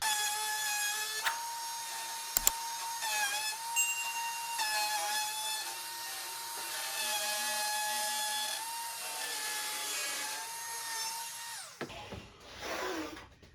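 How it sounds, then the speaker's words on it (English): A router guided by a jig cuts a juice groove into a wooden cutting board, a loud, continuous, high motor whine that holds steady for about twelve seconds before cutting off, close by, with no talking. "basically just going to turn it on and make sure that your router is against this wall or this wall at all times."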